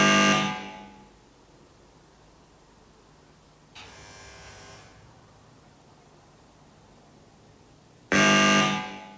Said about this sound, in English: Here's the sound of the doorbell, amplified through an amp.